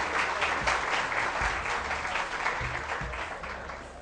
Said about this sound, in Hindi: वैसे समी इब्राहिम साहब पे इतनी आपने वो थक के तालियां बजाई हैं